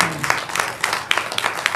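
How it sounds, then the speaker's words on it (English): An audience breaks into applause with scattered individual claps, steady and fairly close, at a formal side event of the Defence and Police Officers Wives Association Nigeria. "Can we clap our hands again for that wonderful"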